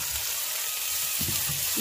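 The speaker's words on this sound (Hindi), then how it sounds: "अब ये टमाटर जो हैं फ्राई हैं" Tomatoes fry in a pan with salt, making a soft, steady sizzle with a few faint stirring sounds, close and alone for under two seconds.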